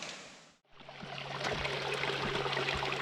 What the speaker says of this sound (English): Listen to this water running here.